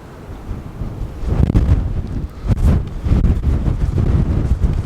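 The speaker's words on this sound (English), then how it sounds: "it's very, very windy out here today." Strong wind at a beach buffets the microphone outdoors in loud, low rumbling gusts that swell and ease, with no voices present.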